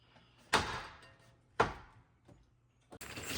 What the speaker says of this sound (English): Brand new screen doors.